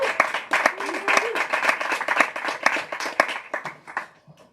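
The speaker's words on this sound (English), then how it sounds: "One more round of applause" Audience at an evening book event gives a round of applause, crisp, close hand claps in a lively, uneven burst that tapers off near the end, with a brief voice faintly beneath.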